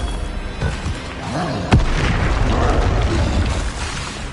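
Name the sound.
explosive spell blast (Bombarda/Confringo) in a wizard video game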